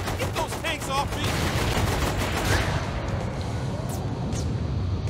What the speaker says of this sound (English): There's something behind me shooting.